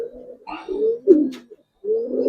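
A ring-eyed pigeon coos close by in a few short throaty bursts with a brief gap, loud and alone.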